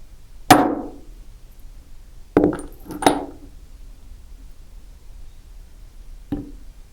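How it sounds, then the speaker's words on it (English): A 1 pound brass mallet strikes a design stamp set on a metal rivet: four sharp, ringing taps spaced a second or more apart, close and clear against near silence. "Take that design stamp here, place it on top of my rivet, and with my 1 pound brass mallet,"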